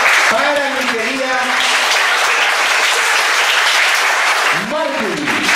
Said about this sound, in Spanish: aplauso fuerte para mi querida